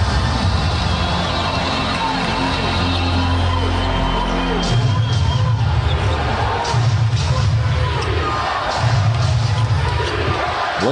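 A basketball arena crowd roars and cheers after a Lakers three-pointer in an NBA playoff game against the Thunder, loud sustained cheering with rising swells, under a commentator's voice.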